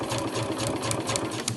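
Sewing machine back stitching along the piping of a cushion cover, a steady fast motor whir with rapid needle thumping, close and continuous throughout.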